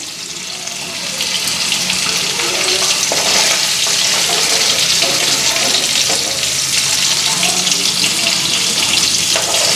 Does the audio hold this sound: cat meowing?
no